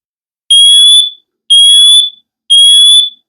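Three loud, piercing electronic chirps from a smoke and carbon monoxide detector sound at regular one-second intervals, each with a shrill high tone and a sharp onset.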